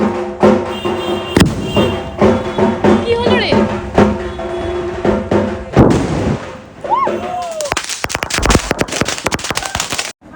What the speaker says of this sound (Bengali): বেসিক্যালি যেটা হয়েছিল সেলটা উপরে আকাশে উঠে না ব্লাস্ট করে একটু শর্ট হাইটে উঠেই ব্লাস্ট করেছিল